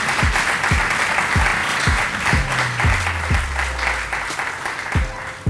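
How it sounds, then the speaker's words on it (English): Audience applause at a groundbreaking ceremony for a Kroc Center, a full crowd clapping steadily and loudly throughout, with a few deeper thumps mixed in. "Please give these people a round of applause."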